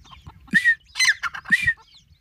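Chickens and young chicks kept under a basket call out in a rural yard: three close, loud squawking clucks in quick succession over faint background peeping, with no talk.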